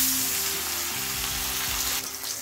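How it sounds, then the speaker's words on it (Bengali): Khaira fish fry in hot mustard oil in an iron wok, a loud, steady sizzle and crackle close by, with a brief clatter of stirring or turning near the end. "তেল গরম হয়ে গেছে, এবার একটা একটা করে খয়রা মাছ ভেজে নেব।"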